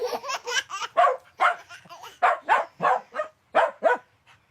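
A dog barks in a rapid series of about a dozen close, loud barks with short gaps, delighting children nearby.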